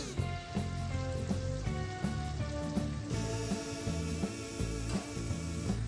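Crispy Hatari-style chicken frying in hot oil, sizzling steadily and loudly the whole time, with a few clinks and stirring sounds on top and no talking.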